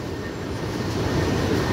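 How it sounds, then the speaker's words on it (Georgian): Metro train arriving at the Athens airport station, a steady low rumble of rolling wheels and motor that swells slightly toward the end, continuous and fairly close with no talk. "აეროპორტამდე მოდის მეტრო."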